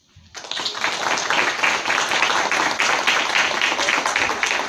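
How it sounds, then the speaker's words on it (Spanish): Enthusiastic applause from an audience at a Peruvian cultural forum, dense steady clapping that starts abruptly and holds loud and unbroken throughout, with no talk over it. "Gracias por las palmas entusiastas"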